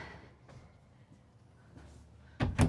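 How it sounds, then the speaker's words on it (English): Soft-close full-extension drawers in the bunk area of a 2026 Renegade Verona 40VBH Super C motorhome, with a quiet stretch of faint knocks followed by two close, sharp sliding thuds near the end. "we have some little drawers for them. So a little bit more storage for them. And those are, of course, full extension, soft close as well."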